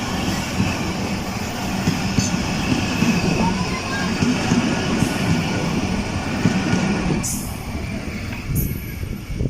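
Shalimar Express passenger train running on the line near Karachi in extreme heat, a steady loud rumble of wheels and carriages with faint clatter throughout, brief higher squeals near the end.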